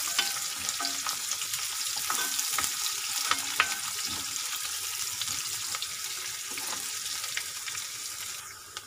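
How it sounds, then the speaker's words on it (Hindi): Chopped onion frying in a pan over a medium flame, a quiet, steady crackling sizzle broken by soft stirring scrapes, heard up close with no voices. "कांदे को हमने अच्छे से भून के सॉफ्ट कर लिया है"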